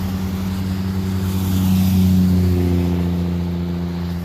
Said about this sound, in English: I just can't speak over these trucks.